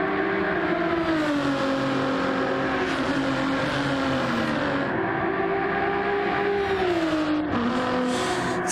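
Race cars roar through a Gran Turismo-style online sim race in the CTC 2025 Group B event, a dense pack of engines droning loudly and continuously, pitches rising and dipping together as the field accelerates and brakes.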